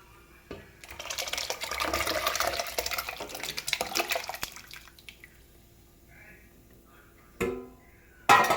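Liquid pours steadily into the water left from cooking field beans for a Karnataka-style sambar. The rushing splash lasts several seconds, then fades to quiet, followed by a couple of brief knocks against the pot.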